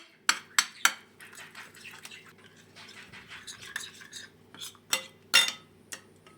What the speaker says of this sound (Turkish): Ve sosumu güzelce bir karıştıracağım